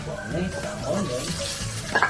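Onion sizzles and crackles in a pan with steady frying hiss and occasional stirring scrapes, close and constant.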